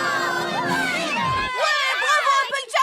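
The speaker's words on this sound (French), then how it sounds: "Applaudissez Applejack!" A cartoon crowd of ponies cheers for Applejack, with overlapping excited voices shouting and whooping loudly, a burst of rising cries followed by scattered high cheers.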